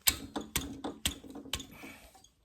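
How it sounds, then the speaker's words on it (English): A 17 mm wrench works loose the banjo fittings on a Wu Ling diesel engine's injection pump, giving about five sharp, close metallic ratcheting clicks in an uneven rhythm that fade into a short quiet tail. "let's get these banjo fittings loose and see what we got inside that injection pump"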